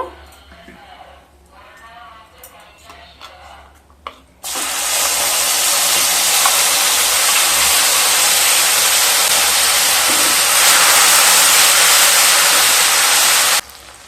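Spice paste for a no-onion, no-garlic vegetarian masala paneer hits hot oil with a sudden, loud, steady sizzle that starts abruptly and hisses on for about nine seconds before cutting off, following quieter talk.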